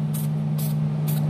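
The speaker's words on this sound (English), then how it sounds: "give it a good shake, give it a spray" Three short hissing bursts of a zinc spray paint can, evenly spaced and close by, dusting a light coat over a slot during a toy hauler trailer build, over a steady low hum.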